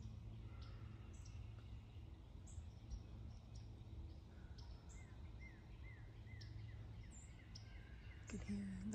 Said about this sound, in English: You can hear that might be a northern cardinal